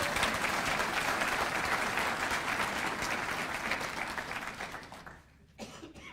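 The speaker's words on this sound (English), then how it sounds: "you can give him a round of applause" Audience applause rings out at a police academy graduation ceremony, a dense steady clapping that carries on for several seconds before fading out near the end.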